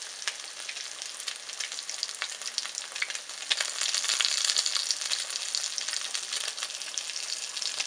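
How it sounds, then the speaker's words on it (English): Oxtails coated with Parmesan cheese pan fry, giving a steady, moderately close sizzle and crackle that swells slightly midway, with no talking. "I'm just gonna mix this up and we're gonna pan fry them"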